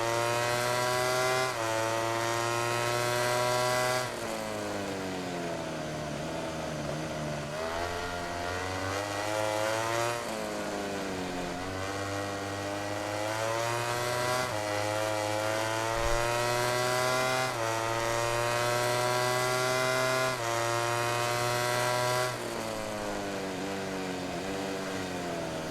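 A Ducati racing motorcycle in MotoGP 17 at the Brno circuit, its engine screaming close and loud, repeatedly revving up through the gears and dropping back on downshifts in rising and falling sweeps.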